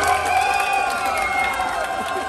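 An indoor audience claps and cheers for BMW fans, a dense, lively burst of applause and shouts with some voices calling out within it.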